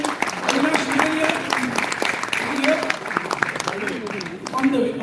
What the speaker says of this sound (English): Yeah, keep cheering there, keep cheering there